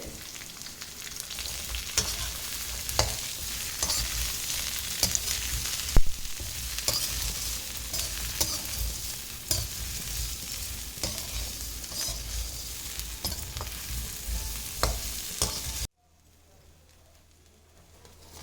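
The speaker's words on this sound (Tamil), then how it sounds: "எண்ணெய் ஊற்றி வதக்கிக்கலாம்" Crab masala ingredients sauté in hot oil, a loud continuous sizzle with frequent scraping stirs and clinks of the spoon, ending abruptly in near silence for the last few seconds.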